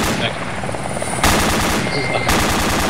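The rotor drone of an enemy helicopter in a tactical shooter video game runs continuously, broken by two loud bursts of rapid gunfire that swell over the engine noise.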